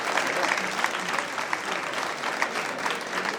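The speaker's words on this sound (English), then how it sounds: "I request everyone to welcome our chief guest with a big round of applause." Audience applause welcoming the chief guest at a national management college conference, a steady round of many hands clapping in a hall that continues evenly throughout, with faint voices underneath.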